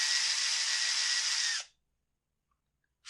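A power driver spins a long screw into a Husqvarna T435 chainsaw, a steady high whir lasting about a second and a half that cuts off sharply, followed by quiet and a brief restart at the end.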